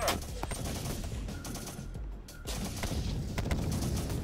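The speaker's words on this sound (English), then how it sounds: "Somebody's shooting." Dense gunfire in the Syrian Warfare real-time strategy game, a steady rattle of overlapping shots with a few heavier thuds, layered over a continuous busy battlefield background.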